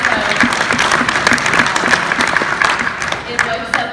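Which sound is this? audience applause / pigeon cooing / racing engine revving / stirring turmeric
audience applause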